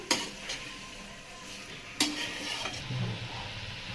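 A spoon scrapes and stirs bottle gourd (lauki) with spices in a pan over a soft, steady sizzle. A few sharp scraping knocks stand out near the start and the middle.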